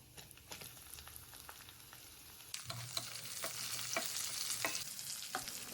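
Green chilies, curry leaves and seasoning seeds fry in hot oil, a faint sizzle that swells louder partway through, with a spoon scraping and stirring in irregular clinks.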